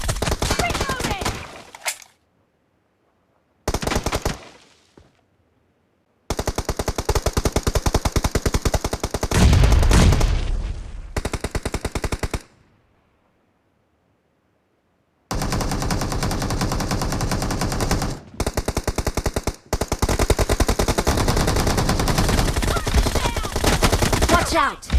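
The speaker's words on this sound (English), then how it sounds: "Watch out! Shots!" Rapid automatic gunfire in a video game, sounding as long sustained bursts of dense shots, loud and close, broken by several abrupt silent gaps between volleys.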